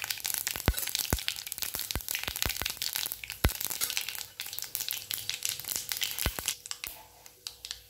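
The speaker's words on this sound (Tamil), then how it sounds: "கடுகு பொரிஞ்சிச்சு." Mustard seeds and chana dal fry in hot oil for upma, giving a steady close sizzle broken by sharp, irregular crackles and pops as the seeds burst, with no talking.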